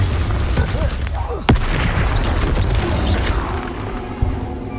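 Confringo fire spell blasting in the video game Hogwarts Legacy, a sharp booming impact followed by a rumbling crash, then a smaller hit later, over continuous game background noise.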